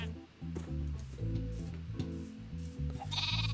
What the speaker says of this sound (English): I need just one more sheep.